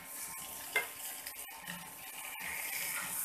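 Mango peel coated in salt, turmeric and chili powder fries gently in a pan over a low flame, a soft continuous sizzle with a few faint clicks from stirring, quiet and close with no voices.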